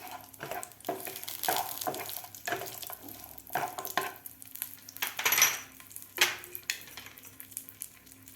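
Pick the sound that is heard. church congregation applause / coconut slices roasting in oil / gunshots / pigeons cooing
coconut slices roasting in oil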